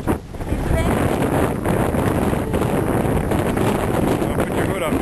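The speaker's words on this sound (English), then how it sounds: "oh, so windy" Strong gusty wind blasts across the microphone during a snowstorm in Calgary, a dense, roaring rush that stays loud and constant for the whole stretch.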